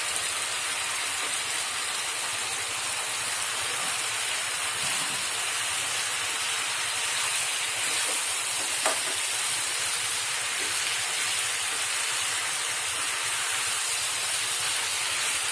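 Soaked onions frying in hot oil, a continuous bright sizzling hiss that stays steady and fairly loud, with no talk over it.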